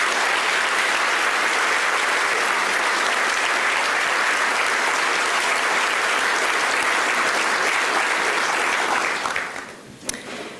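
Sustained, loud applause from an audience at a school superintendent's State of the Schools address honoring board members, a dense even roar of clapping that fades out near the end.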